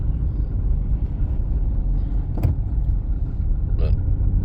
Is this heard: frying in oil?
no